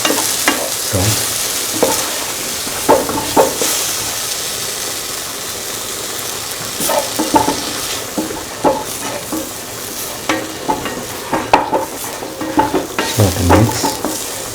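Garam masala and salt are stirred into green mango and mung bean fried rice in a sizzling pan, with steady frying hiss broken by repeated scraping strokes of the spoon, close and alone.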